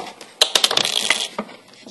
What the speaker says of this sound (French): Je fais tout tomber, c'est pas grave.